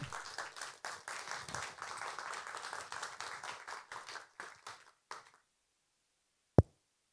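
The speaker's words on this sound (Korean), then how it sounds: "여러분 큰 박수로 이진순 상임대표님과 최은길 공동대표님을 환영해 주십시오" Applause from an audience welcoming two representatives at a public broadcast event on press freedom, steady clapping for about five seconds that tapers off, followed by silence and a single sharp knock.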